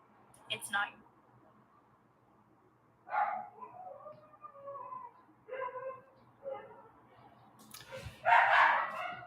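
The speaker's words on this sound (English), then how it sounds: "Neighbor's dog." Scattered barks and yips from a neighbor's dog confined in a building hallway come in separate bursts, first a sharp one early, then several more later on, muffled and moderately distant.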